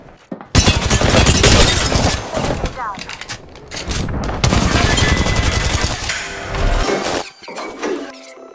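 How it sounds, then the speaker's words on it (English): Loud bursts of weapon fire in Apex Legends on the Arenas map Hillside Outpost, with rapid shots, sharp cracks and shattering impacts coming in heavy waves. Character voices call out over the shooting. "I am taking fire, friends."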